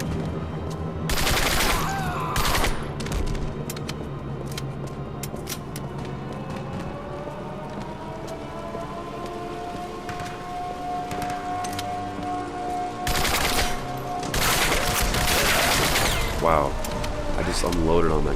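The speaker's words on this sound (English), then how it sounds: "Run around shooting the guys that are spawning directly behind me." Gunfire from shooting enemies in the video game Turning Point: Fall of Liberty, with loud bursts of automatic fire near the start and again toward the end, and a sustained tone and game effects in between.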